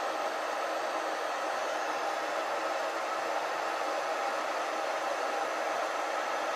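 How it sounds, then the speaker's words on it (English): A small electric motor runs on a circuit board under repair, giving a steady, even whirring hiss that stays constant and close throughout with no speech. "So motor number 1 is working"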